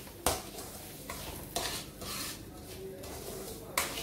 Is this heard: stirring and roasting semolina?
yes